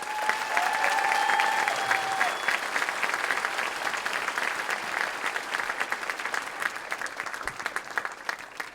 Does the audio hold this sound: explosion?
no